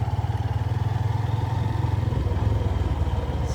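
A motorcycle rides off-road on a sand track, its engine loud and close with a steady rapid thumping pulse, the note dipping briefly partway through as it labours over the slippery ground.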